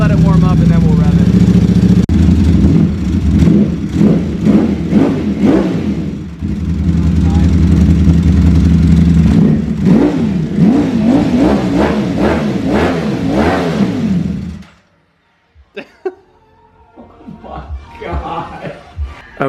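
A Ducati Panigale V4 SP engine warming up runs loud and close, with repeated sharp revs that rise and fall before it suddenly dies, leaving near silence and a few faint clicks.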